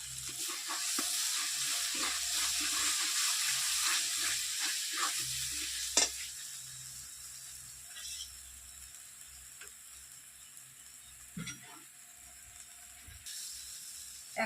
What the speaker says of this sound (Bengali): মশলাটা খুব ভালো করে ভেজে নিয়েছি তেল ছাড়তে শুরু করেছে